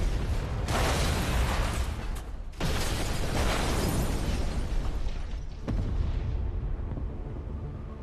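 A loud bomb blast rendered in a film scene, a roaring wall of explosive noise that cuts off abruptly, then resumes with a second long rumbling burst before fading slowly.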